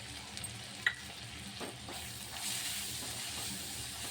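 Masala and chilli powder being stirred into pav bhaji in a pan, giving a steady soft sizzle with scraping strokes of a spoon, moderately close, no talk.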